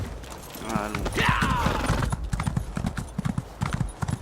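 Horse hooves clip-clop in a steady quick rhythm close by in a video game, with a brief voice calling out over the start.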